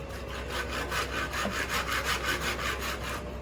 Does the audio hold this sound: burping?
no